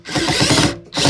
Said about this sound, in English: I got some screws to take out on the other end real quick